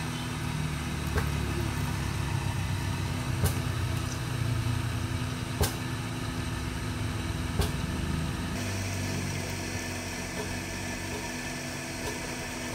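A 1.5 hp electric water pump motor runs steadily with a constant mechanical hum, a faint whine and a few sharp clicks, close and alone with no voices.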